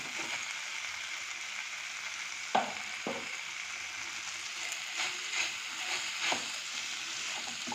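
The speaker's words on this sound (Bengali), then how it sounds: "ভালো করে মিশিয়ে দেবো পাস্তাটাকে, হালকা হাতে নেড়ে" Boiled pasta is being stirred into a pan of vegetables and chicken for cheesy chicken pasta, bringing a gentle sizzle with scattered scraping and clinking of a spatula. Quiet and close, with no talking.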